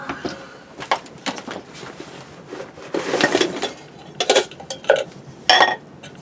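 A cup and spoon clink and scrape against each other in a series of irregular, close ceramic and metal knocks, with no talking.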